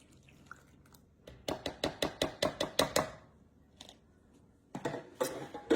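Milk being whisked in a bowl while making chicken cobbler, a close run of about ten quick, sharp clinking strokes in steady rhythm, a pause, then a few more scattered taps and scrapes.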